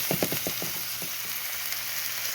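Corn fritter batter hits a hot pan and sizzles, with a quick burst of crackling spits at the start that settles into a steady, fairly loud fry. No one speaks.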